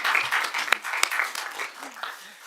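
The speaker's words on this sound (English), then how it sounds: "Let's give them a round of applause and thank them for those proclamations" Applause from a public meeting audience honoring school trustees' proclamations, steady crowd clapping at moderate level with a few sharper claps standing out, fading slightly toward the end.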